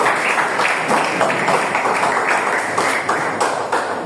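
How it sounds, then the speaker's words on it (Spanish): A church congregation claps steadily in praise during a Spanish-language worship service, a dense, continuous wash of many hands in a large room with no talk over it. "Dale palmas al Señor, aleluya."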